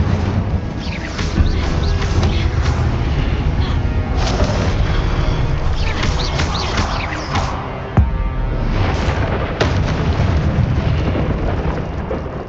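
Fire and blasting spells, Confringo and Incendio, go off in the Hogwarts Legacy video game as a dense, continuous roar of booming explosions with a few sharper cracks rising through it.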